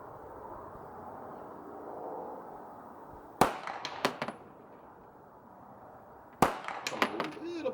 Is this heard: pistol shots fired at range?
yes